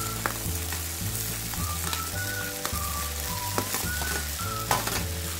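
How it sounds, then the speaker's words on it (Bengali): Fried potato and papaya pieces are added to spiced rice in a pan and fried, a steady sizzle with occasional stirring clinks, under soft background music. "এবার ভেজে রাখা আলু পেঁপেটা দিয়ে দিচ্ছি"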